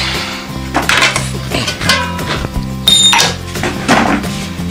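Ingredients for grilled quail mixed in a bowl, repeated clinks and scrapes of utensil against the bowl in an irregular rhythm, close and fairly loud.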